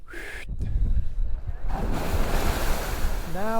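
Geyser water in Iceland simmering and bubbling, a steady churning, surf-like wash with a wind-buffeted rush over it, and a voice begins to talk at the very end.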